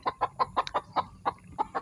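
Chickens clucking in a steady run of about ten short, sharp clucks, close and fairly clear, with no talking over them.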